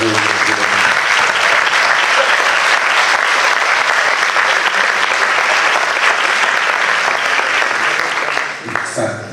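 Loud, sustained applause from an audience at a pedagogical conference welcoming a new vice-president, a dense wash of clapping that fills the whole stretch before tapering slightly at the end.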